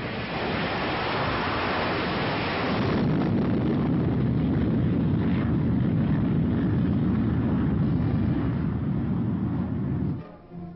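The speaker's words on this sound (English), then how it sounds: "America was building an arsenal of jet bombers." Jet bomber engines from an early American bomber fleet roar in a steady, heavy rush of broadband noise that swells after the first few seconds and then cuts off abruptly near the end.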